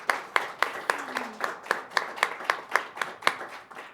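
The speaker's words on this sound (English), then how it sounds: "I think that deserves a bit of a round of applause." A small audience at an event about electric vehicle charging claps, with sparse, distinct hand claps in a fairly regular rhythm, some louder than others, fairly quiet, with brief talk underneath.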